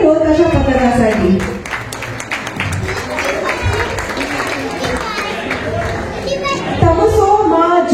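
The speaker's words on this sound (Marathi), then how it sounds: "जोरदार टाळ्या झाल्या पाहिजे स्वामिनी ढोल ताशा पथकासाठी." A crowd at a Jijau Brigade gathering in Dubai applauds the Swamini dhol tasha troupe, with steady clapping and chatter continuing under loud, rising voices.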